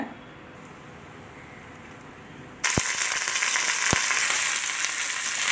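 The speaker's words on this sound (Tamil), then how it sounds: "எண்ணெய் காஞ்சதும் கடுகு உளுத்தப்பருப்பு கருவேப்பிலை போட்டு தாளிச்சிக்கோங்க" Mustard seeds, urad dal and curry leaves drop into hot oil in a kadai and burst into a loud, steady sizzle after a quieter stretch, with a couple of sharp pops from the seeds.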